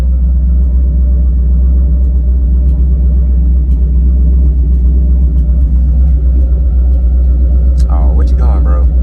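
A car idling at a Louisiana car meet, its deep steady rumble loud and close throughout, with someone talking faintly over it near the end.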